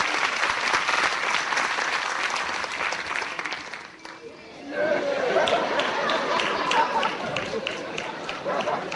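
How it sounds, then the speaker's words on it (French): An audience applauding and cheering, with dense sustained clapping that briefly thins to a near-lull midway and then swells back to full strength. "Je vous demande de vous acclamer très fort"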